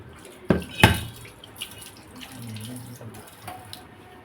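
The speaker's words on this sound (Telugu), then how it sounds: "ఇదిగోండి చేపలు శుభ్రంగా కడిగేస్తున్నాను" Fish for a tamarind fish curry being rinsed under a running tap, water flowing steadily with two sharp splashes or knocks near the start, then softer trickling and handling sounds.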